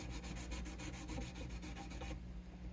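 Steady back-and-forth strokes of 220-grit sandpaper on a fret of a vintage Gibson LG-1 acoustic guitar, a close, even rhythmic rasp that stops abruptly near the end.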